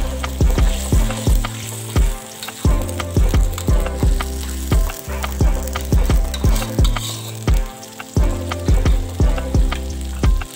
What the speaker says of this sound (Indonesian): kita masukkan lengkuas dan juga jahe, lalu juga daun salam, kemudian serai. Kita aduk-aduk lagi